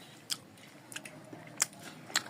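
Someone eats egg and bottle gourd curry, with a few faint, scattered wet chewing and biting clicks at close range and quiet pauses between them.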